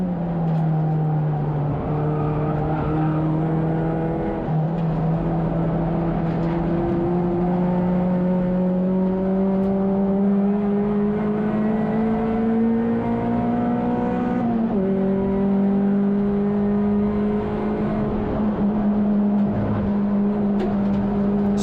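Touring race cars, among them a silver Renault Clio, scream around the Thruxton circuit in a close battle, a loud sustained engine drone rising and shifting pitch through the gears as cars run nose to tail.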